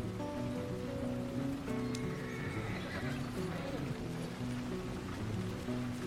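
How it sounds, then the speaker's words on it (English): A horse whinnies and its hooves clip-clop through steady rain in the game Red Dead Redemption 2, with faint low game sounds throughout. "I think the horse is getting skittish."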